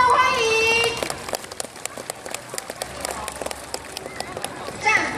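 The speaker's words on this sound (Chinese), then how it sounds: "请掌声欢迎" At an outdoor army special forces exhibition at Chiang Kai-shek Memorial Hall, an announcer speaks briefly, then the crowd gives scattered, moderate applause to welcome the army special warfare command's war drum team.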